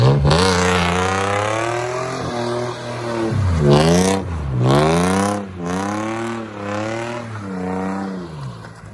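Nissan 300ZX drift car revving hard while driving, repeated loud engine pulls climbing in pitch, each broken by a brief drop between gears, close and dominant.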